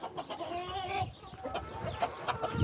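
A Denizli rooster clucks repeatedly in short bursts, fairly close, with a busy farmyard background.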